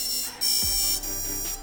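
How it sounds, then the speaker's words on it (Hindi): A drone's ESC beeps right after the battery is plugged in, on a cheap Arduino Uno build with an MPU6050 and a Flysky CT6B receiver. It sounds as steady, bright electronic tones that shift in pitch, with a soft thump partway through. "बैटरी को ड्रोन से कनेक्ट करना है, फिर ऐसी बीप सुनाई देगी।"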